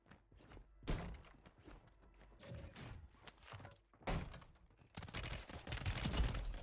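Warzone gunfight heard from close by: bursts of rapid gunfire and single sharp shots start and stop across the stretch, mixed with clattering thuds and movement noise, growing denser and louder toward the end.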